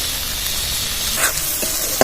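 Spice masala frying in oil for doi potol, giving a steady close hiss and sizzle with a couple of faint pops near the end.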